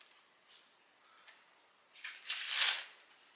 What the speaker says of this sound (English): I'll give it a quick shuffle.